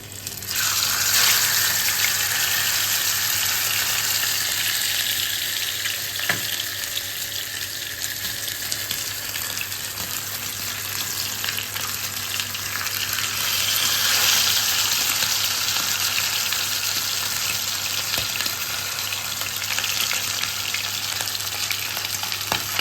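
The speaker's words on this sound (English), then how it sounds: "So the oil is already hot. We can now add in the fish." Fish fries Kerala style in hot oil, a loud, dense, continuous sizzle with fine crackling that swells and holds steady, heard up close with no talking.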